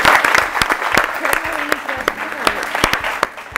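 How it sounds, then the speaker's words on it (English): A quiz show audience claps for a winning team, a brief burst of scattered, fairly close hand claps with a few louder individual claps, while a voice speaks briefly. "special round of applause to team number one."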